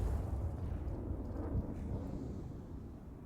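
A grenade explodes in CS:GO on the Overpass map during a professional NaVi versus NIP match, heard as a fairly quiet, low, rumbling boom that fades out over a few seconds with no speech.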